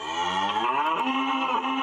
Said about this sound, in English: It's a cow!